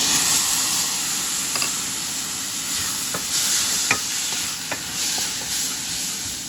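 Tomato is stirred into a black-eyed pea curry sizzling in a pan, a steady frying hiss broken by scattered scrapes and taps of a spoon, with no talking.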